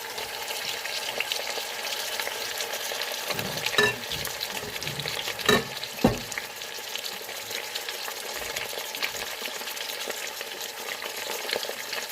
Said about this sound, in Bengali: এবার আমি প্রেশার কুকারে দিয়ে দিচ্ছি এই গোটা গরম মশলা